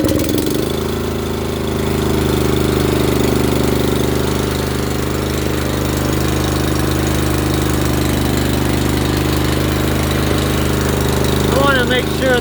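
A Honda snowblower engine runs with a steady, loud droning rumble and a constant mechanical chatter throughout, with a few faint squeaks near the end.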